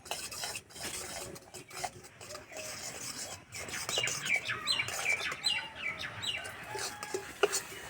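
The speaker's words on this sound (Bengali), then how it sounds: "এইভাবে সবসময় নাড়তে হবে নাহলে তলাতে লেগে যাবে" A spoon scrapes and stirs a thick flour and milk mixture in a pan with irregular clinks and scrapes, while birds chirp in the background.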